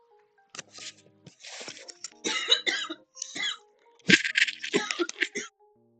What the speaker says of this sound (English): Didn't expect that coughing fit to hit me.